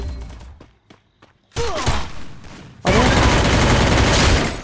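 Rapid MP40 submachine gun fire in the mobile shooter Free Fire, coming in two loud sustained bursts after a few quieter scattered sounds, the second burst continuing to the end.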